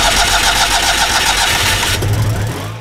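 An old Citroën 2CV at an oldtimer festival starts up loudly, its engine cranking and catching into a steady buzzing run before the sound drops away near the end.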